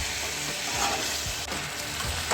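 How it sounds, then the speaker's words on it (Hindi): Mutton sizzles steadily in a karahi over high flame, a dense, continuous, close frying hiss with occasional soft stirring, no voices. "यहाँ पर गोश्त को 6 से 7 मिनट के लिए मैं भूनूंगी"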